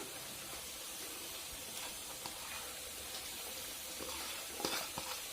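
Coconut oil heating in a pan on a lit stove, giving a steady, soft hiss and sizzle throughout with a few small crackles and pops near the end, with no talking.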